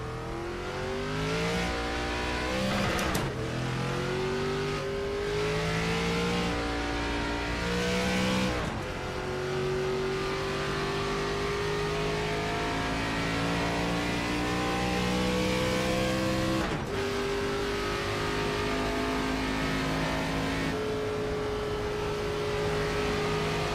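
A race car engine in a sim racing game on an oval, driven with a formula wheel, revs loud and continuous, its pitch climbing and dropping through repeated gear shifts with brief sharp cuts between pulls.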